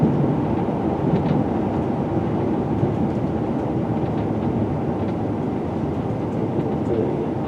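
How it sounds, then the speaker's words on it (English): A Metropolitan line S-Stock train departs Chorleywood for Amersham, a steady loud rumble of wheels and motors sustained throughout, close and unbroken. "Metropolitan S-Stop train departs Chorleywood for Amersham"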